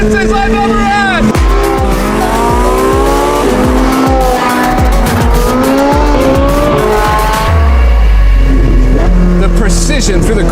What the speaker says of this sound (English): It is a race car's naturally aspirated V8.